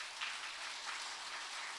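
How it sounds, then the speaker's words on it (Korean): A church congregation claps for its elders in a short burst of dense, even applause that holds steady throughout. "우리 모든 장로님들을 향해서 이 시간 격려의 박수 한번 하시기 바랍니다."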